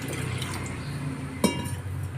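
Water is poured into a mixer jar holding semolina and salt for dosa batter, a faint liquid trickle with a brief clink of glass partway through, under a low background hum.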